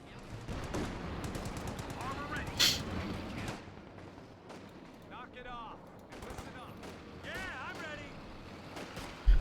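Gunfire in Company of Heroes 2, a Wehrmacht versus US Forces match: dense machine-gun bursts and repeated shots at mid distance, busiest early, then sparser volleys with a loud crack at the end.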